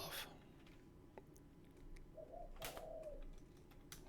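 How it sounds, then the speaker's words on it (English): A bird coos outside a window, with faint, short calls rising over a quiet room and a brief tonal phrase near the end, heard from a little distance. "Man, that bird is going off."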